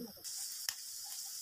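Potatoes frying with green chilli and onion for home-style noodles, a steady broadband sizzle, close and fairly quiet, with a brief louder crackle partway through and faint voice sounds at the start.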